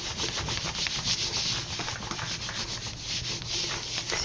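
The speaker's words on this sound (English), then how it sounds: "I'm going to lie that down over my ink and rub all over quite firmly" Scrap paper is rubbed firmly by hand over an inked monoprinting plate, making a continuous close, dry scrubbing hiss with quick back-and-forth strokes.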